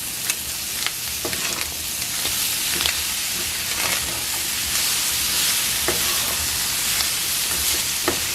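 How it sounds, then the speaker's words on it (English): Supreme nachos ingredients, olives and onions among them, stirred together in a hot pan, giving a steady sizzle with scattered scraping clicks of the utensil throughout, close and alone. "Now I'm going to mix everything together."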